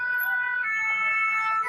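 A fire engine siren holds a steady, sustained high tone, fairly loud and nearby, with no voices over it.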